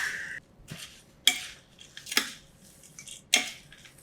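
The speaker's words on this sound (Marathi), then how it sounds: "मसाला बुंदी बारीक शेव कोथिंबीर छान मिसळून घ्यायचं" Pandharpuri bhel being mixed with masala boondi, fine sev and coriander in a bowl, with a few distinct rustling, clinking tosses of a spoon separated by quiet pauses, close by.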